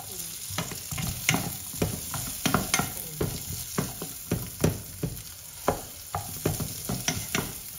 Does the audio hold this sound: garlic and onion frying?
yes